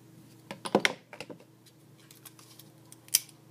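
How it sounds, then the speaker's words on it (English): Scissors trimming the end of a stitched edge from a sewing kit, a few quick close snips clustered early, then a single sharp cut after a pause. "Then you can go ahead and trim off your end."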